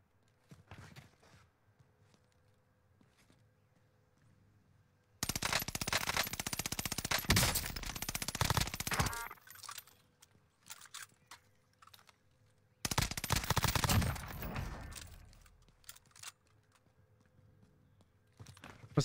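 Gunfire in a shooter video game comes in two long, loud bursts of rapid automatic fire, each lasting several seconds, separated by quieter stretches of faint clicking and movement.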